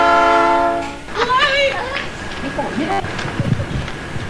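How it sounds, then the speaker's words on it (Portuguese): A train horn blares in one sustained, steady tone for about a second, then cuts off as people talk over a fainter rumble. "O trem verdadeiro é esse aí, né?"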